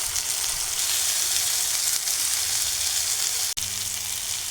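Ridge gourd peels sauté in a pan with onion and tomato, giving a steady, close sizzle that runs the whole time with one brief dropout near the end. No voices.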